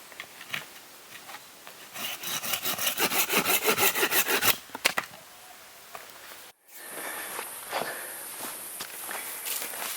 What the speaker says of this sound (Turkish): Şimdi kenarlarını düzgün bir şekilde kesiyorum